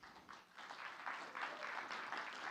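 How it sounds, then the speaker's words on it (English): An audience applauds after a talk at a conservation event, a faint, steady wash of clapping from many hands heard at a distance for the whole stretch. "Lots of applause here."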